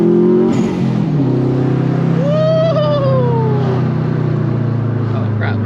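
A turbocharged drift car pulls hard under partial throttle, its engine note rising in a loud, close sweep before settling into a sustained drone.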